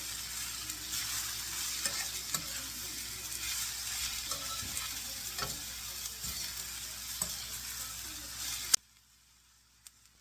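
Carrots and other vegetables are stir-fried for japchae, sizzling steadily in a pan while a utensil scrapes and clatters through the pieces at irregular moments, then the sound cuts off near the end.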